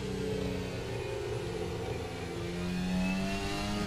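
An F1 car engine in a racing video game downshifts into a corner: a loud, continuous high engine whine with stepped shifts in pitch. No one speaks.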